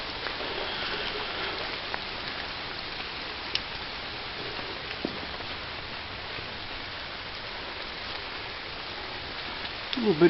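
Steady rain falls during a hike outdoors, a dense even hiss of drops on the surroundings with a few faint taps, continuous and moderately loud, with a brief rustle at the very end.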